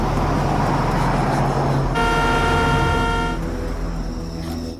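A car horn blares in a steady, loud honk lasting over a second amid road traffic noise, with vehicle engine rumble before and after on a quiet street.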